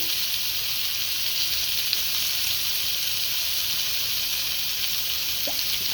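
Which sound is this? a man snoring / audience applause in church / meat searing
meat searing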